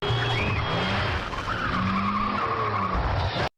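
Car tires screech and skid in a sustained, loud squeal as a vehicle nearly collides with an oncoming car, an unbroken wail of rubber on road lasting several seconds before cutting off abruptly.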